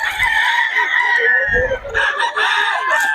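A rooster crows loudly and close by at a market in Bocaue, a long strained call followed by a second crow, with farm background noise.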